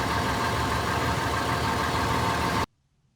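A car engine idles steadily after its exhaust flange was repaired with muffler clamps. The rumble is loud, close and without leaks, then cuts off abruptly near the end, leaving silence.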